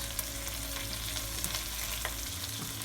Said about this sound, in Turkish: temizlemiş olduğumuz ıspanaklarımızın başını e, kavrulan soğanlarımızın içerisine bırakıyoruz